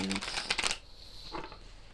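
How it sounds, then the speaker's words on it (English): Tarot cards being shuffled by hand, a quick burst of riffling and flicking up close, then a second brief rustle after a pause. "I'm doing live shuffling."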